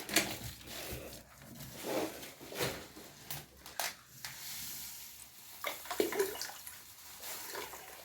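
Caustic soda is tipped into a bucket of water while mixing homemade bleach, giving uneven splashing and sloshing in several bursts that swell and fade over the clip, with no voices.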